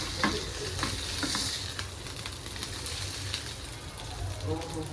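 Stuffed pomfret pan-fries over a low flame, giving a steady soft sizzle with light crackles and spatters throughout and no voices.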